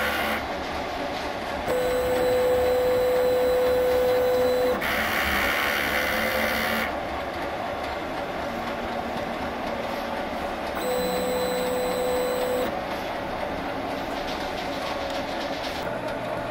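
A DTF printer runs a print head cleaning cycle, steady mechanical whirring and clicking with two stretches of louder pumping and a high whine, close and alone.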